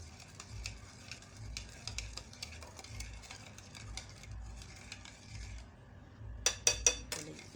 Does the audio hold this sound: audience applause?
no